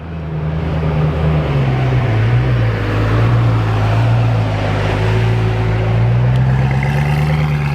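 A Koenigsegg Agera RS hypercar at top speed, a loud, steady engine drone with a wavering pitch that shifts and holds, heard alone without talk, rushing wind noise underneath.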